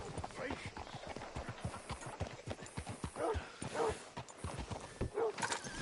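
Hooves of a horse in the Red Dead Redemption II video game, a steady clip-clop of walking steps close by, with a few snorts and whinnies and some speech underneath.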